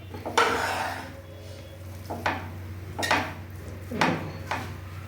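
Scraping, clattering stirs of a spoon through cooked tomato rice in a metal pot, several strokes in a loose rhythm, close and fairly loud, with no talking.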